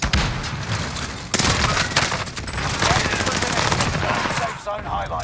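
Heavy automatic gunfire in a multiplayer shooter video game, rapid bursts and continuous fusillades with loud booming impacts, close and dense throughout, with voices talking underneath.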